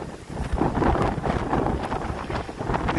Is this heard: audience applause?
no